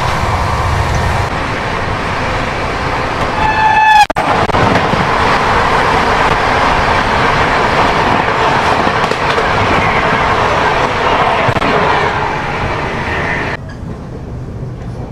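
A Humsafar Express passenger train runs at about 130 km/h, heard from inside as a loud, constant rushing roar with rail rattle, a brief tonal squeal near the start and a sudden drop in level near the end.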